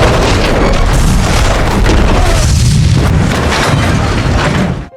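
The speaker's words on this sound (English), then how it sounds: "the oil field erupted in a massive explosion, engulfing the entire area in a fiery inferno" A massive oil field explodes in a post-apocalyptic zombie film, a loud, sustained roaring blast with deep rumble and crackling debris filling the whole stretch before cutting off abruptly at the end.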